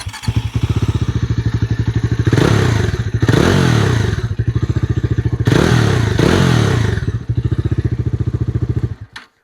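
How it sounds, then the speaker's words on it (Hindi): A 2025 Bajaj Dominar 400 with twin mufflers idles with a loud, deep, even thump from the exhaust. It revs up in three strong bursts between steady idle beats, then cuts off at the end. "एग्जॉस्ट साउंड जो काफ़ी बूमी है, काफ़ी बेसी है"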